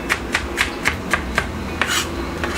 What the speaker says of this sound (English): I'm gonna go ahead and get started on chopping up some cilantro, onion, and prepping some lime for the tacos.